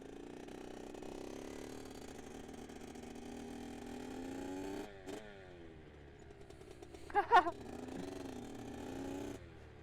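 A rebuilt Kawasaki KX65 dirt bike fitted with a big bore kit, ridden at a distance: a faint, steady engine drone with a brief rise in revs near the end.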